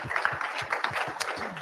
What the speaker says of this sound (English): You can give yourself a round of applause for that.